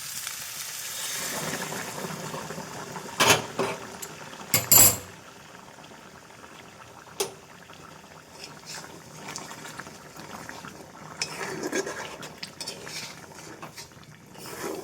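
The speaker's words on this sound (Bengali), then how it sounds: "এবার এই ফুটনা জলটা দিয়ে দেবো" Boiling water poured into a pan of frying mutton kosha in a kadai, steady sizzling and bubbling broken by a few sharp clinks and a louder hiss as the liquid hits the hot meat.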